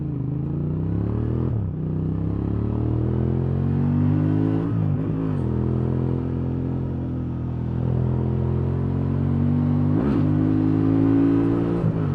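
A Honda Transalp adventure motorcycle accelerates hard on a dirt track, its engine revving up in a steady rising drone with a few gear-change dips, loud and close throughout.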